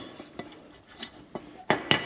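Metal brake caliper slide pins clink as they are pulled out during a front brake job on a Chevrolet SSR, giving several faint, scattered clicks that end in two sharper, louder clinks close by.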